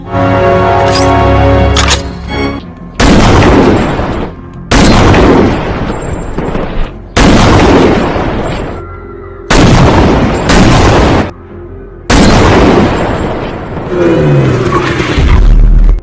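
Gunfire in an action film about a mercenary soldier carrying a rifle for a massacre: loud bursts of shots and booming blasts arrive in about five separate heavy volleys, each followed by a brief hush or rumble.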